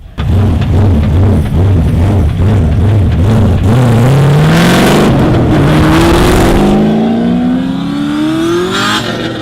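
Rear-mounted turbo LS V8 drift car engine loud and close, burbling at idle in a pulsing rhythm before revving hard and climbing steadily in pitch, with a turbo whine on top.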